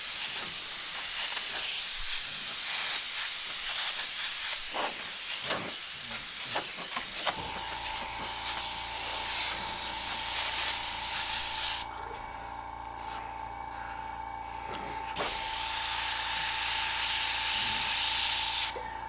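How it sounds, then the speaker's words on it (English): Airbrush compressor hissing loudly and steadily, a broad continuous spray of air with a sustained tonal hum joining partway through, briefly dropping back before the hiss returns; no talking. "Compressor's working overtime."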